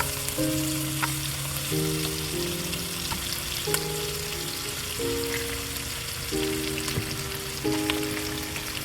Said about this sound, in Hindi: इसको अच्छी तरह से भूनना है, तो गोश्त भून जाएगा